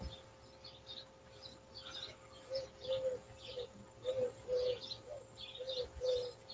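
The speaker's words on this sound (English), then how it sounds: "listen to the dove. I know, mourning dove, or that's probably one of the Eurasian collared dove" A dove, probably a Eurasian collared dove, coos outdoors in soft repeated calls that sit faintly under a steady background hum, with light chirping from other birds around it.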